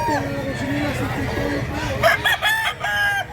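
A rooster crows twice in quick succession at a rural stag market in Mantalungon, Cebu, fairly close, with murmuring voices and other fowl in the background.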